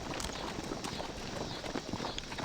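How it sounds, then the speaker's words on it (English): A horse team pulls an artillery limber wagon in a Civil War game, giving a steady dense patter of hooves and rolling noise that fills the whole stretch at an even level without talk. "A limber is the wagon that has the horse team attached to it."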